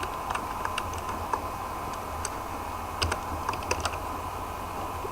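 Quiet, steady typing on a computer keyboard as a command is entered, with irregular clusters of light key clicks over a constant low hum and no voices.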